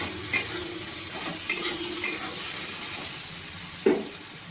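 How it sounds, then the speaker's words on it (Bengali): Potatoes and eggplant frying with onion, tomato and turmeric in a pan for a fish curry, a steady oily sizzle broken by several sharp scrapes of a stirring spoon, close and clear with no talk. "পেঁয়াজ আর টমেটোর সাথে বেগুন আর আলুটাকে ভালো করে ভেজে নেব"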